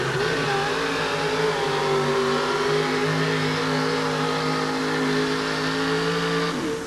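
A monster truck engine roars and revs while hitched to a pulling sled at a 1988 USHRA event in Kansas City, a loud, sustained mechanical drone that holds steady before dropping off at the end.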